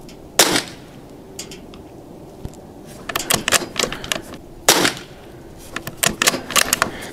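Rifle shots fired at an outdoor shooting range at about 218 yards in cold weather, two sharp loud cracks a few seconds apart, each followed by clattering mechanical handling sounds.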